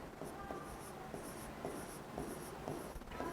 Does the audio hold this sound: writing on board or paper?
yes